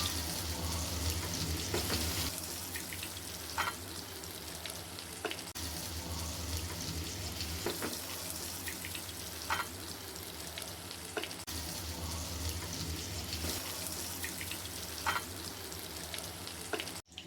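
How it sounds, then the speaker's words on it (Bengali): Shami kebabs fry in a pan, turned to cook on both sides, giving a loud, steady sizzle that runs throughout with occasional soft clinks and stirring noises. "এইভাবে দুনো পিঠে এইভাবে ভাজবো"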